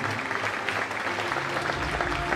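An audience at the Reine de la Dentelle 2025 pageant breaks into steady, dense applause, a continuous wash of many hands clapping at moderate volume throughout.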